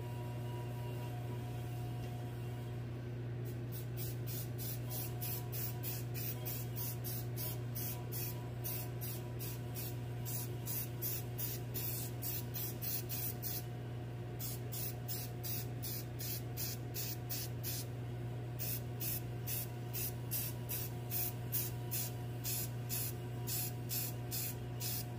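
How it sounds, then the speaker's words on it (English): Spray gun coating a freehand-carved live edge cedar mail carrier, delivered as a long series of rapid, evenly spaced spray pulses with brief pauses, over a steady low mechanical hum. "Spray from the other direction."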